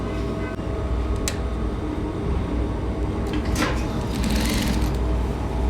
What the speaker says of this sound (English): So you start sewing from the notch.